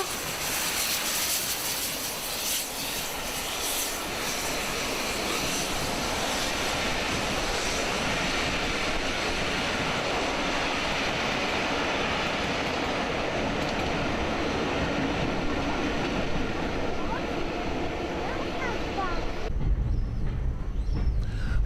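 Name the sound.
steam train with two Black Five locomotives passing through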